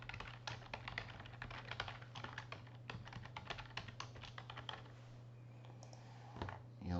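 Rapid, uneven keystrokes on a computer keyboard as login credentials are entered, a steady run of close, crisp clicks over a constant low hum, with a brief pause near the end.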